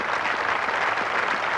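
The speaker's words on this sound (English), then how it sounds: "Surely get generous applause" A cricket crowd at The Oval applauds during a Test match between England and New Zealand, with dense, steady clapping from a large crowd at a distance.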